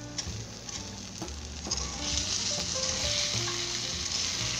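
Takoyaki balls sizzle loudly on a cast griddle after soy sauce is poured in, a dense crackling hiss that swells midway, with light tapping and scraping from turning picks, close and without voices.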